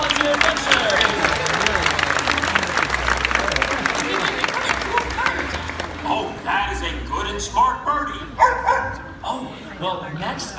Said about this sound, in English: How about a round of applause for our volunteer adventure?